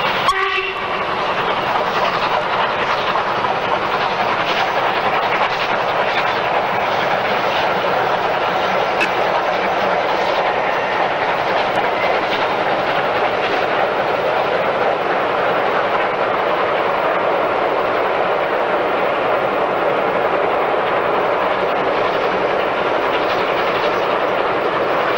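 The steam locomotive Bahamas rumbles along the track in a loud, continuous roar with faint rhythmic clatter, heard from on board its footplate throughout.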